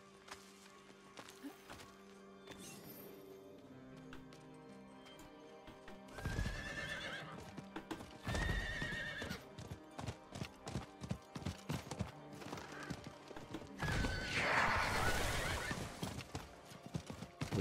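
Horse hooves clip-clop in steady rhythm while riding in Diablo 4, with loud whinnying neighs bursting out several times over game music and effects.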